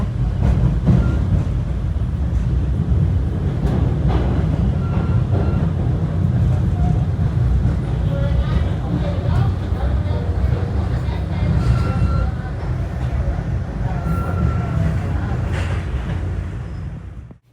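Commuter train rolling toward North Station, a loud continuous rumble and rattle of the carriage heard from inside, with wind buffeting the microphone and faint squeals on top.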